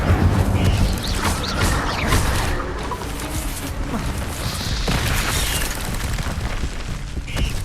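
A fire spell blast in the video game Hogwarts Legacy: a loud burst with crackling flare among continuous dense combat noise, booms and shattering effects filling the whole stretch.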